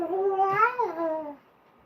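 A single drawn-out, wavering meow, fairly close and clear, lasting about a second before fading into quiet.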